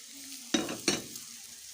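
Hot chili peppers and bell peppers sautéing in a pan: a steady sizzle broken by two loud scraping stirs in quick succession, close by, with no voices.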